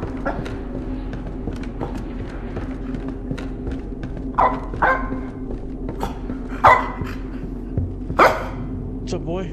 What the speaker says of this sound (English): Dog's back at it again.